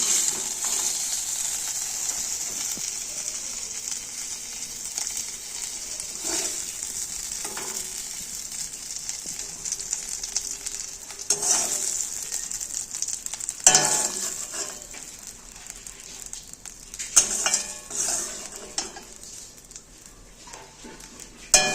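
Mourola fish fry in a pan with a continuous bright, close sizzle, dotted with occasional louder spits and crackles of hot oil over about twenty seconds, with no talking.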